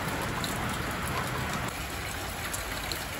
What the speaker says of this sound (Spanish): Qué bonita es la lluvia, el agua es vida.